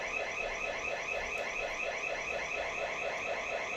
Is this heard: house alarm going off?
yes